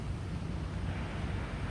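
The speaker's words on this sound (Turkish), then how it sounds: "Yani dalgaları görüyorsunuz." Rough sea waves wash against the beach at Da Nang, Vietnam, in a brief, steady surf roar mixed with wind buffeting. The sound is fairly faint, with no voices.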